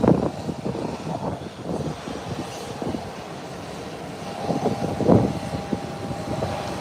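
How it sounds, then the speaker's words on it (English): Airbus 319 airliner taxiing toward takeoff, a distant low jet engine rumble and whine mixed with gusty wind buffeting on the microphone, uneven in loudness and without talking. "There you have it, now in the taxiway. It's an Airbus 319."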